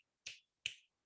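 Two crisp finger snaps about half a second apart, close and clear in a quiet classroom, with no talking over them.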